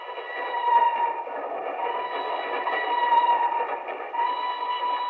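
Train crossing a trestle over a deep mountain gorge at night, a steady, close rumble of rolling railcars with a sustained metallic whine riding above it, continuous and fairly loud with slight swells throughout.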